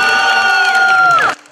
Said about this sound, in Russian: Так, болельщики встречают каждого из 8 участников.